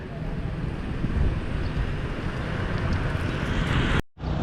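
Steady broadband engine and wind rumble from a moving scooter on a Vietnamese street, continuous and fairly loud, cutting off abruptly near the end.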